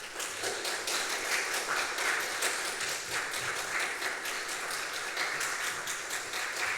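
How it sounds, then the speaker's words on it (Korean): A church congregation gives a welcoming missionary a long round of steady, dense applause, evenly sustained throughout and moderately loud, with no talking. "우리 나오실 때 큰 격려의 박수로 우리 선교사님을 환영하겠습니다."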